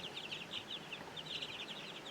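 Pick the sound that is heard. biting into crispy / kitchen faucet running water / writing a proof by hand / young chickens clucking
young chickens clucking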